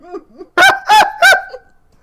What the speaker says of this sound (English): Yeah, I heard that goose right now.